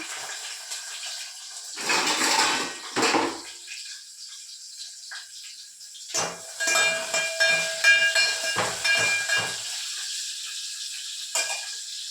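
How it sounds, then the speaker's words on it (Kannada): Finely chopped onions frying in oil with mustard seeds and curry leaves, a steady hiss and sizzle with louder bursts of crackling spatter, close and without talk. "ಸ್ವಲ್ಪ ಸಣ್ಣದಾಗಿ ಕಟ್ ಮಾಡ್ಕೊಂಡಿರುವಂತಹ ಈರುಳ್ಳಿನ ಹಾಕಿ ಚೆನ್ನಾಗಿ ಫ್ರೈ ಮಾಡ್ಕೋಬೇಕು"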